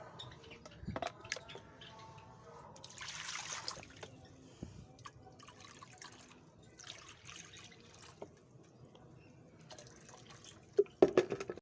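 Water is poured and changed in the bowls of pet ducks and rabbits outdoors in the heat, with scattered drips, splashes and trickles at moderate distance, plus a few louder knocks near the end.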